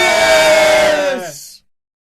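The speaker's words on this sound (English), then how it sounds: "Everyone at Trent TV cheered loudly." At a TV studio, a crowd lets out one loud, close cheer that swells for about a second and then cuts off into silence.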